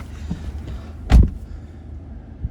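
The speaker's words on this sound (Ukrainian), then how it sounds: "Закрию двері, бо не покаже." The door of a 2018 Mercedes-Benz E220d sedan with 258,000 km shuts with a single solid thud, close by in a quiet cabin.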